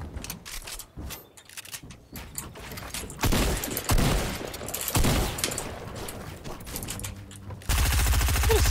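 Gunfire in the Fortnite battle royale video game, with rapid automatic bursts and dense fusillades that build into sustained loud fire, then a steady hard-edged rattle near the end.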